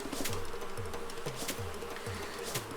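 Bees buzz in a video game with a soft, repeating low drone, each buzz swelling and falling in a steady rhythm of short pulses at a moderate distance.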